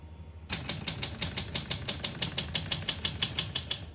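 Keys strike steadily on a 1960 Olympia SM4 portable manual typewriter, about five crisp clacks per second after a brief quiet start, close and even in rhythm.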